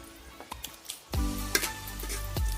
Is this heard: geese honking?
no